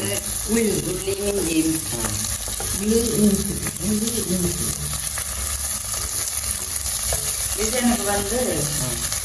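Big onions and small shallots fry in a pan for a biryani, a steady broadband sizzle running throughout with occasional stirring, while voices talk over it in the foreground.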